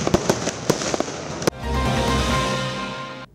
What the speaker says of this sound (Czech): Celou akci tak tradičně uzavřel ohňostroj, který symbolicky zakončil prázdniny